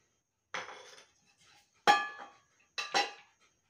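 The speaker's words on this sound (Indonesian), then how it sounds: "kemudian kita akan mulai dengan piring seng." A zinc plate handled during a primary school science experiment gives three separate metallic clanks and rattles, each ringing briefly before dying away, close by with no talk.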